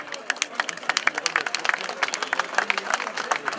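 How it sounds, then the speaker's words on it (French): A crowd applauds at the trophy ceremony closing the Essor Breton 2015 cycling race in Plougourvest: steady, dense outdoor clapping with crisp individual claps throughout, with a faint voice underneath. "avec de nouveaux applaudissements à ceux-ci près les fleurs"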